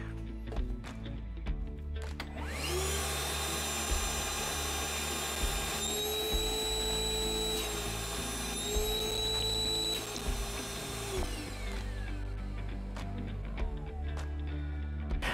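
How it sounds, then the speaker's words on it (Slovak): A Ryobi R18PV-0 cordless vacuum cleaner whines loudly for several seconds after starting, its tone shifting slightly partway through before winding down, with clicks and handling knocks around it. "Jeho hlučnosť je štandardná ako bežný vysávač, niekde okolo 90 decibelov"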